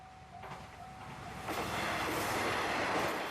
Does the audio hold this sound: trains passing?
yes